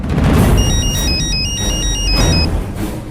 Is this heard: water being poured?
no